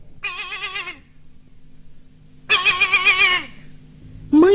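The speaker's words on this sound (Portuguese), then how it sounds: "E o cabrito foi chegando e foi berrando." A young goat bleats in two long, wavering calls with a third starting at the end, fairly loud and close against a quiet background, in a children's story record.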